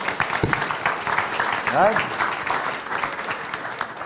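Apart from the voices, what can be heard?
audience applause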